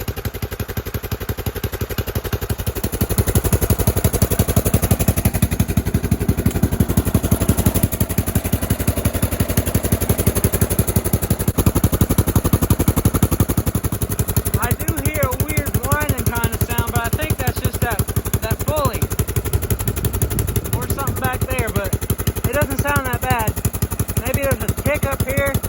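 An old Toro Wheel Horse lawn mower engine with bad valves runs loudly and roughly at close range, a dense rapid chugging with irregular pops and misfires throughout.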